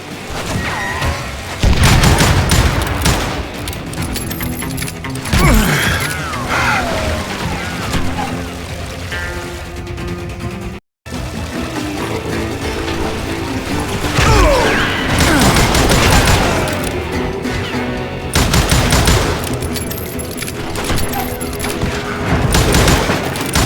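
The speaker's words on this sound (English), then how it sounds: "I saw Henry Plummer throw dynamite at me." Gunfire and dynamite explosions from the Western shooter game Call of Juarez Gunslinger, with loud, dense bursts of shots and heavy blasts running almost continuously, broken by a brief silent gap partway through.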